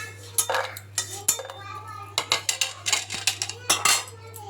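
A metal spatula and utensils clink and scrape against a pan and plate as fried ilish fish is lifted out in a home kitchen, giving sharp, irregular clatters close by over a steady low hum.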